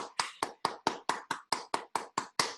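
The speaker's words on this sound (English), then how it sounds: "I just want to give everyone a big round of applause" Eleven sharp, evenly spaced claps ring out close by, crisp and loud, like a single pair of hands applauding alone in a concert setting.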